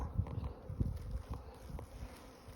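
Low, fuzzy buzzing of many honey bees close by, a steady hum with small swells, no voices.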